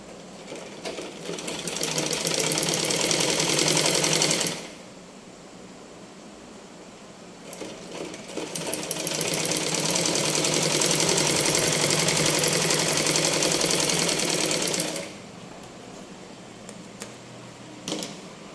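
A sewing machine runs in two bursts, a short run then a longer steady stretch, stitching the side seam of a 36-inch blouse front panel, separated by quiet handling of the fabric, with no one talking.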